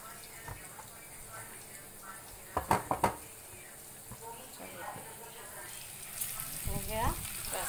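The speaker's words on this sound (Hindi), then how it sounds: "अब इसको धीमी आंच पे हमें फ्राई करना है" Chicken legs fry in hot oil with a low, faint sizzle, broken by several sharp clinks of a utensil against the pan, while a person talks over it.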